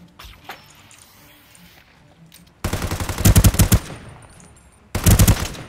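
Automatic gunfire in the online battle royale shooter Rules of Survival, two loud rapid bursts after a quieter stretch with faint distant shots.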